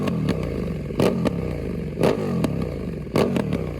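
A KTM Super Duke V-twin naked motorcycle engine revs in several sharp blips over a steady loping idle, each throttle burst loud and close, with mechanical clatter between them and no talk.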